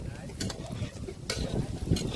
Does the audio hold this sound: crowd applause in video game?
no